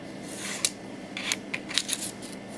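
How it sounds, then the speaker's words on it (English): A craft knife draws across paper against a straight edge, giving a few quiet, brief scratchy strokes close up. "to cut paper, we've got a couple of options. Once again, the craft knife, our utility knife, and our straight edge."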